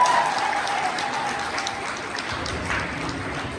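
Audience at a high school's official opening ceremony clapping together, a short, even burst of applause heard at moderate distance with no talk over it.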